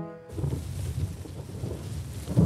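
Stormy weather in a Swiss German children's cartoon about a firefighter, with steady rain and low rumbling wind and thunder throughout, swelling into a louder boom at the end.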